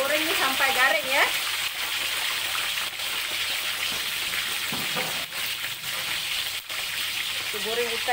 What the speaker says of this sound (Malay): Kita goreng ikan ni sampai garing.